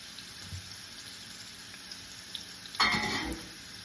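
A burger fries in a pan with a soft, steady sizzle that swells into a louder hiss near the end; no one speaks over it.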